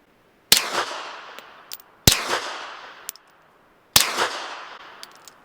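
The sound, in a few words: three suppressed supersonic full-power 9mm gunshots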